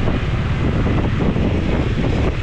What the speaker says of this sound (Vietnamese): Quá trời mưa lạnh, cũng gió nữa mọi người.